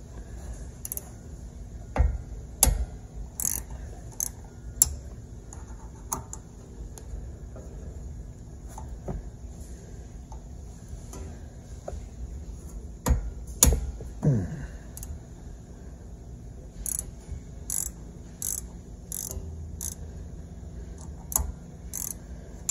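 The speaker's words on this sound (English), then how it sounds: "Let's go ahead and crack the nuts loose. It's a 10 millimeter." A ratchet cracks loose 10 mm nuts on a Kawasaki V-twin valve adjuster, giving sparse, close clicks and short ratcheting bursts scattered across a quiet workshop background.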